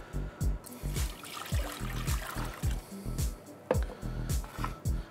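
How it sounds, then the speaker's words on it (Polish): Water pours and splashes into a pot in a steady, gurgling stream, a litre for brine for duck, fairly close and moderately quiet. "Dodajemy litr wody."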